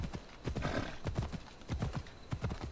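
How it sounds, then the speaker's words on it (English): Rhythmic clip-clop of horse hooves in the video game Assassin's Creed Odyssey, close and steady, with a brief whinny partway through. "Do your thing, horse. We're going to go up."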